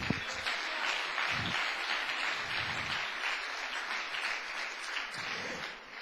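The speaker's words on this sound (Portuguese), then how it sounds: "dá outra salva de palmas para o Senhor" A Pentecostal church congregation claps together in steady, dense applause, loud and close throughout with no break.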